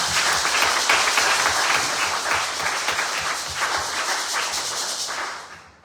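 A worship congregation at a church glory service claps and applauds steadily and loudly, a dense roar of hands that carries on throughout before fading out at the end.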